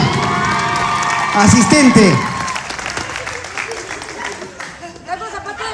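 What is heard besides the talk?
audience applauding and cheering on a TV show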